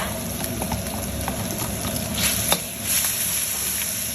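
Soy-sauce and sesame-oil marinated pork sizzles and bubbles steadily in a hot pan, a close, continuous frying hiss with a brief louder burst midway.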